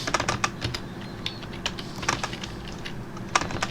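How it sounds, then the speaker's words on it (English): Typing on a computer keyboard during 3D modelling work in Blender: quick, irregular clusters of close key clicks with short pauses between bursts, heard alone. "This was taking me a long time to type this few fucking letters here."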